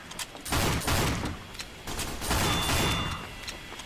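Rapid, loud bursts of double-shot gunfire in Team Fortress 2, several sharp blasts in quick succession with brief gaps, close and dominant.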